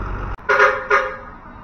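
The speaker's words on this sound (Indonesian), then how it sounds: "ini klakson Harapan Baru dibunyikan nih" A Harapan Baru coach's horn sounding before departure, two loud, close toots with a short gap between them, then a quiet background.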